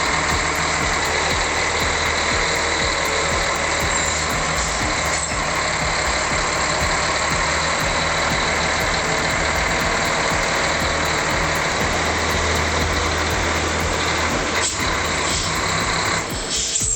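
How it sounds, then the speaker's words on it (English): A MAN diesel engine in a tractor runs loud and steady for the whole stretch, a continuous heavy rumble with no talk over it. "That's no ordinary growl. It's a man engine under the hood."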